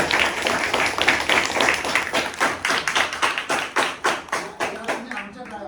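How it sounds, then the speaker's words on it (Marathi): Schoolchildren at a Zilla Parishad school in Usgaon clap together, starting with a loose burst of applause, then settling into loud, steady rhythmic claps in unison that fade toward the end. "यांच्यासाठी जोरात टाळ्या"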